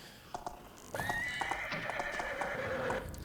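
A horse in Thief: The Black Parade gives a long, loud whinny after a few hoof clops, the neigh wavering for about two seconds before fading as footsteps continue.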